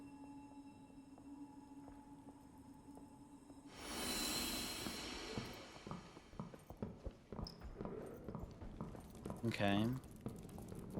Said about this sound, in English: Oh yeah, I hear those footsteps